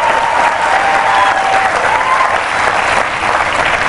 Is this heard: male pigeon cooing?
no